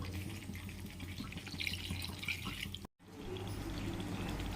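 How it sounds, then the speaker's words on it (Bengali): A little water is poured into a pan of chicken curry, giving a soft, close trickle and splash that runs for a couple of seconds, breaks off briefly, then resumes quietly. "এবারে একটু অল্প জল দেবো।"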